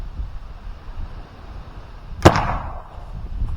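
A homemade firecracker wrapped in packing tape goes off outdoors with a single sharp, loud bang, then a short fading tail over low background rumble.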